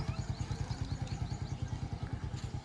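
A motorcycle rides figure-eight loops around poles at a driving school, its engine putting out a steady low, pulsing putter at modest speed, heard from a short distance with no voices.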